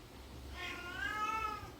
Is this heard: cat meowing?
yes